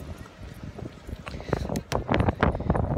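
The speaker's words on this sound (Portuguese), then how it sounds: "O vento aqui em cima é bem mais forte" Strong mountain wind buffets the microphone in irregular gusts, rumbling and building in force toward the end, with footsteps and scuffing on a hiking trail mixed in.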